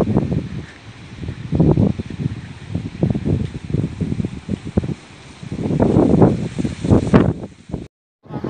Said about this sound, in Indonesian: Pantau pagi ini angin masih cukup kencang dan berputar-putar.